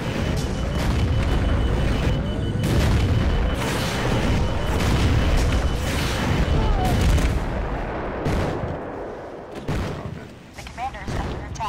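Repeated heavy tank cannon blasts and booming gunfire from a battle in the Empires Source mod, loud and continuous, with chaotic explosions layered over one another.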